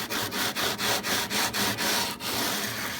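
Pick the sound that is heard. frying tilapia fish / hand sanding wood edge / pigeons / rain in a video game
hand sanding wood edge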